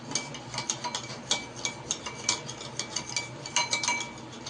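A spoon stirs a thick batter of yogurt, sugar and oil for semolina cake in a bowl, making a steady run of light, close clicks and scrapes against the bowl's sides.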